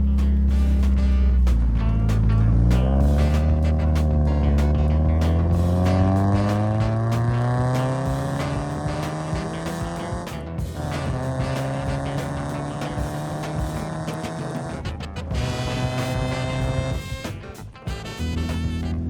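A Mazda Miata on a joyride through a state park, its engine revving up and down through the gears with rising and falling pitch, steady and close, with no talking.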